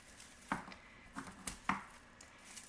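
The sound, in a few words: snipping dried herb branches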